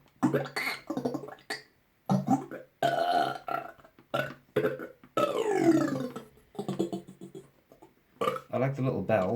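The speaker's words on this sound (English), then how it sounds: "There's a burp." A circuit-bent sound effects machine blurts a series of synthetic burps, each a gurgling, warbling tone in irregular bursts separated by short silences.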